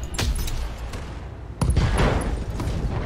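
Mech weapons firing in the BattleTech video game: a rapid volley of sharp, loud shots and booms in two bursts, the second heavier and more sustained, with no talk.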